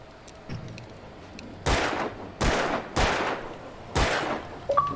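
Four gunshots from the video game Alan Wake Remastered ring out in an uneven series, each a loud, sharp crack with a short decaying tail, against a quiet background.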